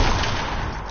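Video game gunfire, a loud, dense burst of shots packed into a single second with no talking.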